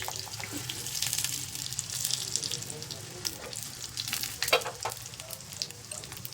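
Mustard seeds and two or three dried red chilies sizzle and crackle in hot oil for a chutney tempering, a close, steady hiss with scattered pops and a voice speaking softly over it.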